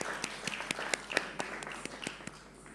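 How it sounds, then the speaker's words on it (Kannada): An audience applauds after a stage dance performance by Roopa Hemanth and Vincent Paul. The dense, steady clapping carries a few sharper individual claps and runs throughout with no talking. "ಚಪ್ಪಾಳೆಯೊಂದಿಗೆ ಧನ್ಯವಾದವನ್ನು ಅರ್ಪಿಸೋಣ"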